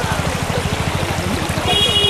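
A forest stream flows steadily with a continuous rushing, gurgling wash, close and fairly loud, along with a low rhythmic rumble underneath and no talking.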